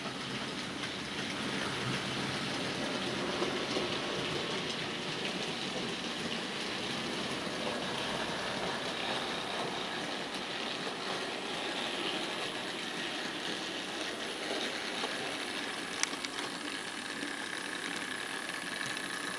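A Bachmann C Class model steam locomotive in BR black runs steadily with a freight train, giving a continuous soft rolling whir and faint rail clatter that stays even throughout, with no voices.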